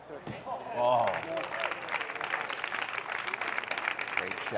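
Crowd applause at an indoor wheelchair tennis doubles final swells after a point, a dense patter of clapping that continues steadily, following a brief voice at the start.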